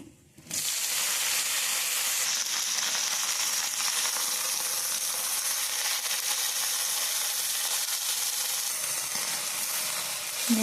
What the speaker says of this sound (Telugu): ఎండుమిర్చి బాగా ఫ్రై అయిందండి ఇప్పుడు ఇందులోకి మనం పుదీనా వేసుకుంటున్నాం